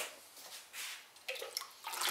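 Liquid glaze poured into a raw, unfired pottery piece for single firing, heard as faint, light splashing and trickling in short bursts that grow a little louder toward the end, with no talk.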